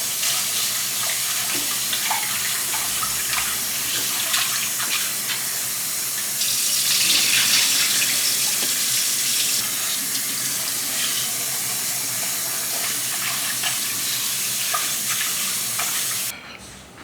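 Rice is washed in a sink under a running tap, giving a steady close rush of water with churning and swishing from the grains, loud and continuous until the flow stops near the end.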